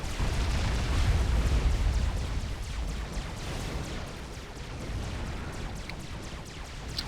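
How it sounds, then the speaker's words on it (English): A mass extractor blowing up in a Supreme Commander battle: a deep, rumbling explosion swelling loud at first, then fading into a long, crackling roar with smaller pops toward the end. "Blew up another one here."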